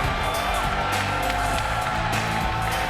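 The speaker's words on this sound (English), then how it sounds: "Listen to this crowd!" A packed wrestling arena crowd cheers loudly for Booker T, a dense continuous roar with whoops rising above it, filling the whole space.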